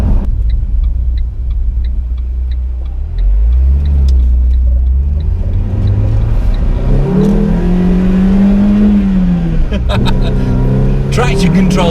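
A Renault Twingo RenaultSport 133 engine revs hard under acceleration, a loud close rumble that rises steadily in pitch and drops as the gear changes, running continuously under the cabin noise.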